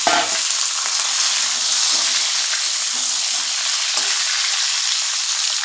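Pumpkin pieces drop into hot oil with a crisply fried hilsa fish head and set off a loud, dense, continuous sizzle that holds steady throughout.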